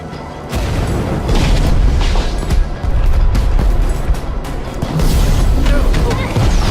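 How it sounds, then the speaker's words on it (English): Fireworks explode in the Minecraft Story Mode video game, a loud dense barrage of booms and crackling bursts in quick succession over a rumbling game soundtrack. "Fireworks!"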